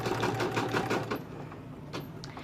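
Embroidery sewing machine stitching a design in a hoop, a rapid mechanical chatter of needle strikes that runs steadily then eases, close and moderately loud.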